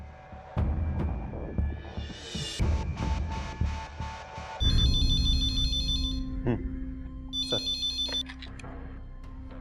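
A telephone rings in a police station office with two bursts of electronic ringtone, and someone speaks in Hindi before and between the rings.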